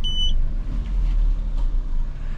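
A Maruti WagonR reverses along a bumpy, sandy village lane, its low engine rumble steady and close, with a short electronic beep right at the start.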